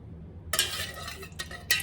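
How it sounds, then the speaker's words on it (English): Melted candle wax at about 120 degrees, with colour settled at the bottom, is stirred in a pot: short scraping swishes and a couple of bright clinks from the utensil against the container, close and quiet. "So I'm gonna just stir it."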